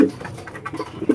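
Racing pigeons coo softly in short bursts while being fed in a loft, the low murmuring calls close and continuous with a few louder coos near the end.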